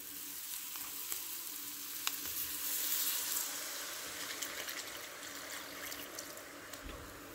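Apple cider sauce thickened with flour simmering and sizzling steadily in a pan, a soft continuous crackle at moderate level with faint clinks, no talking.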